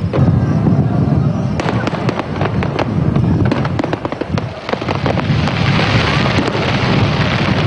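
Continuous crackling and popping bursts of a fireworks display competition at the Dinagyang Festival in Iloilo City at night, with rapid overlapping bangs and a crowd murmuring beneath.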